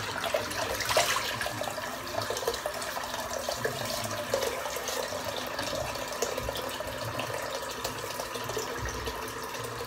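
Hot water runs steadily from a tap into a bathroom sink, a continuous close splashing hiss with no speech over it.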